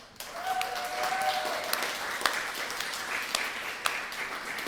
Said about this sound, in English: give them some wild applause this morning as they come in